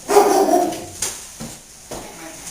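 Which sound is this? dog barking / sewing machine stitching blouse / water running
dog barking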